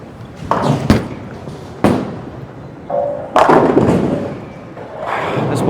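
A Cuda reactive bowling ball thrown down an alley lane: dull thuds of the ball landing and rolling, then a loud, close crash as it strikes the pins, with lane rumble continuing afterward.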